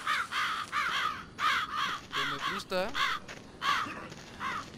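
Repeated harsh crow caws, in the zombie game Land of the Dead, come in bursts across the whole stretch, loud and near, with someone talking briefly among them.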